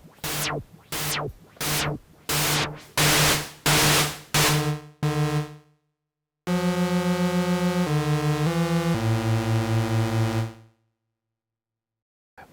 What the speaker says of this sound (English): There's also a noise generator which you can add to the total mix of the signal.